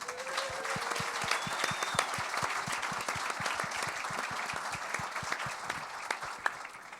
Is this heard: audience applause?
yes